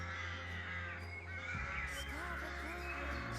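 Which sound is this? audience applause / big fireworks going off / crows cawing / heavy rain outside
crows cawing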